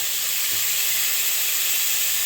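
Masala sautéing in oil for a pabda fish curry, giving off a steady, loud, close hiss of sizzling with no break and no voices.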